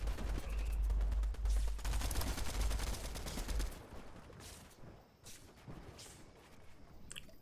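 Rapid gunfire in a Fortnite Duo Cash Cup finals match, a loud dense burst of automatic shots for the first few seconds that then drops to quieter scattered game sounds.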